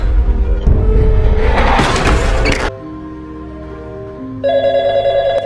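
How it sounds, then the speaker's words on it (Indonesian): A telephone rings with steady electronic tones after a burst of loud rumbling noise; the ringing grows louder and brighter toward the end. "terdengar kembali telepon yang berdering, dan Monica telah mengabari di telepon bahwa"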